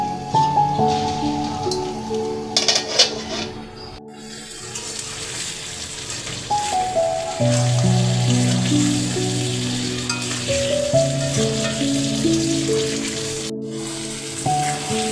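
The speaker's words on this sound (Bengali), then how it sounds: "পানি দিয়ে এভাবে নাড়িয়ে একটা ঢাকা দিয়ে কষিয়ে নিব" Chicken skin and feet curry bubbling with a little water in a covered pan, giving a steady frying hiss and sputter under louder melodic background music, with a couple of brief clatters from the lid or spoon.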